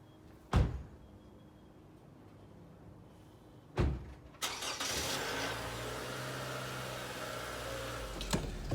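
Car doors thud shut twice, then the engine cranks and starts, settling into a steady idling hum up close with a faint later knock, no talking.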